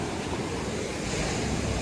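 Strong ocean waves surge and break against large rocks along a rugged shoreline, a loud, continuous roar of surf and wind filling the whole span with no pause.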